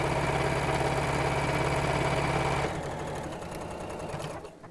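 A sewing machine stitches a drawstring bag in a steady fast mechanical whir, running continuously and then slowing and stopping near the end.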